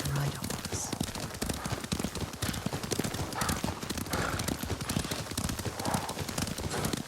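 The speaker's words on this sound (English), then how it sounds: "Lord Sakai taught me to ride a horse." Horse hooves gallop steadily in Ghost of Tsushima, a fast continuous clip-clop rhythm ridden close, with a brief neigh and voices talking over it.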